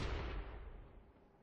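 A tank cannon shot bounces off armor in World of Tanks, a loud booming impact that decays into a fading rumble, followed by a brief sharp crack at the very end.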